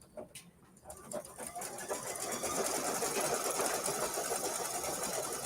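A sewing machine stitches an apple appliqué, starting with a few light clicks and then settling into a steady, close, continuous mechanical whirring hum.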